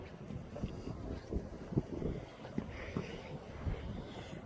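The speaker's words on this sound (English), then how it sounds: "Now the wind's like 35, 40 gusts" Gusty wind of 35 to 40 gusts buffets the microphone in uneven rumbling bursts, rising and falling continuously with no speech.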